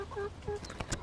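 Backyard hens cluck in a few short, close calls, with soft scratchy farmyard background between them.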